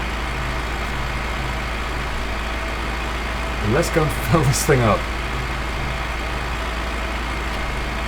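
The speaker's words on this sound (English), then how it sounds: "it takes quite a long time to drive up here in this small tractor" A small tractor's engine in Farming Simulator 15 drones steadily at a low pitch throughout. Someone talks over it briefly in the middle.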